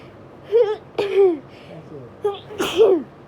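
A person with hayfever lets out a run of three or four loud, close sneezes in quick succession, each a sharp burst, with a short voiced gasp between.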